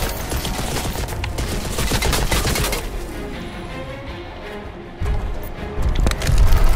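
Dense rapid gunfire rattles in the video game Crysis 2, loud bursts of automatic shots crowding together, easing off for a moment, then resuming heavy and close.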